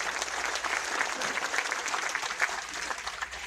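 An audience at a church worship session applauds for Jesus, a steady, even wash of many hands clapping at moderate distance throughout.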